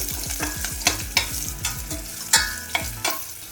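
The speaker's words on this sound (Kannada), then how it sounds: "ಆಮೇಲೆ 2 ಗುಂಟೂರು ಒಣಮೆಣಸಿನ್ಕಾಯಿನ ಹಾಕ್ಕೊಂಡ್ಬಿಟ್ಟು ಇದನ್ನು ಚೆನ್ನಾಗಿ ಫ್ರೈ ಮಾಡ್ಕೋಬೇಕು" Crushed garlic and two dried Guntur red chillies fry in a pan, making a crackling sizzle with sharp spatula taps and scrapes at an uneven pace, close and clear, with no talking.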